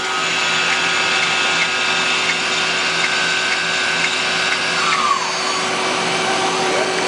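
Citizen L32 Swiss-type CNC lathe main spindle spinning at 5,000 RPM, a steady high whine with a constant hum, even and continuous, close by with no talking.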